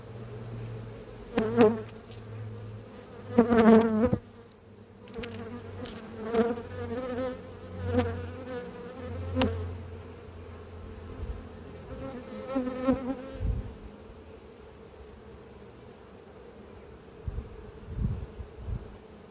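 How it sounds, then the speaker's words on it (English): A dense, steady drone of many honey bees buzzing close by inside a hive, with louder swells as individual bees pass near, continuous throughout with no talking. "there are a lot of bees in here"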